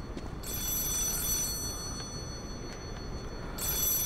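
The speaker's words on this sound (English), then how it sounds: "Oh, phone call." An old-style telephone rings inside the video game Lies of P, its high electronic trill sounding in two bursts with a pause between, faint over quiet background ambience.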